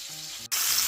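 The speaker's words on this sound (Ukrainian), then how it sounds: "На цій же сковороді у жиру смажимо й овочі" Vegetables sizzle and crackle in goose fat in a hot pan, a brief steady hiss that briefly dips, then returns brighter and louder.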